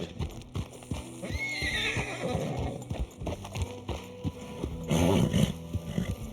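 A tamed horse on a ranch in a role-play video game whinnies loudly while steady clip-clopping hooves run throughout, with a second louder neigh near the end.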